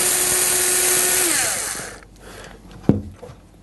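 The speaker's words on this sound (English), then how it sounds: "now I just need to undo this nut which is attached to the retaining clip, just with a spanner or a" A loud, steady whirring from a powered tool, ending in a clank, as the heating element nut on a Bosch washing machine is undone; the whir winds down midway and a sharp metallic knock follows.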